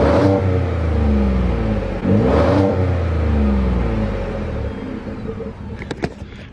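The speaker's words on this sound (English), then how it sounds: "we gotta do the exhaust sound clips like it is stock" A 2021 or later Ford F-150 pickup truck on its stock exhaust revs up and drops back in steady surges, a deep throaty exhaust rumble, loud and close, fading toward the end with a few clicks.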